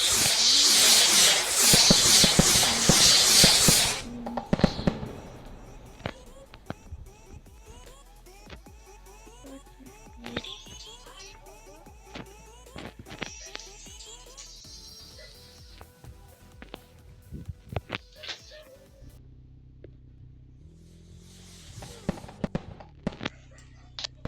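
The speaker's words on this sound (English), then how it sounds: "So I'm gonna add the fireworks." Firework bursts in a storm-chaser setting: a loud, dense crackling barrage in the opening seconds, then scattered sharp pops and bangs at varying distances over a quieter background.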